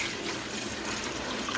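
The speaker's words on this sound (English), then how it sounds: "So I'm just gonna pour in, couple quarts of vinegar" Vinegar pours steadily into a pot for a couple of quarts, a continuous close splashing gush of liquid that fills the whole moment without a break.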